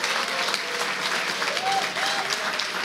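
A crowd at a political speech breaks into sustained, even applause, thick and continuous, with a faint voice audible underneath.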